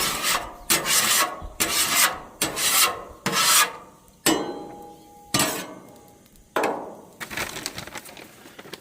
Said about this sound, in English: This griddle is hot. Let me scrape it real quick.